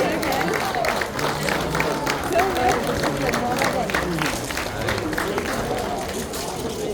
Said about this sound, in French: avec des applaudissements nourris, s'il vous plaît